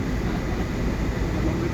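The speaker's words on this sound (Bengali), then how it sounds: "এখন আমরা মাটির নিচে ট্রেনের টানেলের ভিতরে ঢুকবো" Steady loud rumble of a train running through an underground tunnel beneath the sea, a continuous dense roar of wheels and motion with no talk, sustained throughout.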